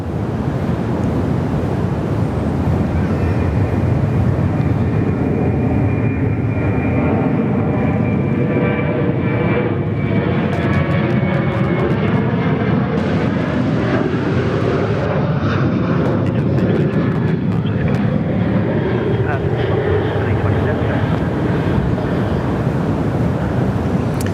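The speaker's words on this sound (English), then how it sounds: "Velocity 737 now, getting underway." A Virgin Australia Velocity Boeing 737 takes off at Perth Airport, its jet engines a steady, loud roar that holds for the whole stretch, with wind buffeting the microphone and no talk.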